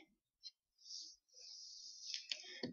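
Mouse clicks on an update button while building a jump link in the Elementor page builder, a few faint, crisp clicks separated by quiet gaps, with a soft whooshing interface tone toward the end.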